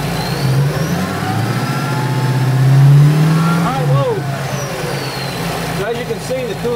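A supercharged car engine revs up and down in a steady mid-range drone, close and loud, with someone talking over it.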